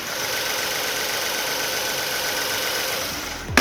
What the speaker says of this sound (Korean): 지금 타이밍 벨트 소리도 너무나 좋습니다. 엔진룸 들려드릴게요.